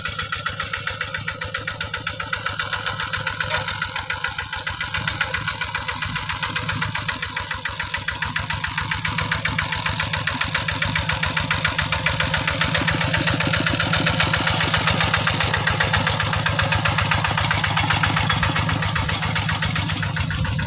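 A small farm tractor engine idles steadily and close by, chugging with an even rapid rhythm throughout, no voices.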